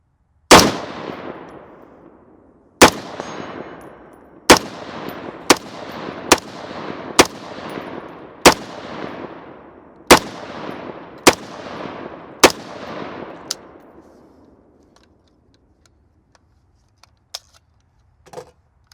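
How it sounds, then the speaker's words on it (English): A Manticore Arms CETME LC rifle fired at a range lets off about a dozen sharp, loud single shots at an uneven pace, each followed by a ringing echo tail, before the shooting stops and it falls quiet. "All right, David's gonna shoot it"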